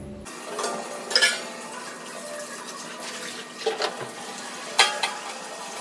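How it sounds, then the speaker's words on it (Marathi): Water runs steadily from a tap fed by a motor pump in a home bathroom, with a few brief clatters and knocks of containers over the flow and no talking. "चला तर पाणी भरूया. आपण चालू केलं."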